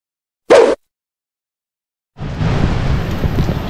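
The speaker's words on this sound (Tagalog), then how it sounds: "Ang lakas ng lakas ng ulan nito at saka hangin." Heavy rain and strong wind lash down during Typhoon Carina, a dense steady roar starting about two seconds in after a brief sharp burst and silence, loud and close with no voices.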